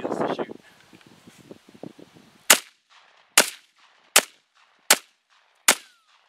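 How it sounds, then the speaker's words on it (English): Five sharp, loud rifle shots from a modified SKS with a folding stock, fired outdoors at logs, ring out one by one at about one-second intervals after a short burst of rustling. "I'm just gonna light up some of these logs here, not going for accuracy, just seeing how it feels to shoot."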